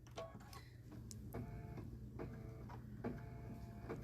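Embroidery machine stitching a quilting fill inside an in-the-hoop snow globe design, a steady rhythmic needle chatter with repeating clicks and a low motor hum, close and alone.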